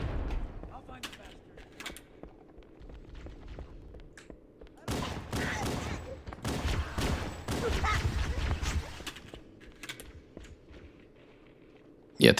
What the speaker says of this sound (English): That was a good grenade.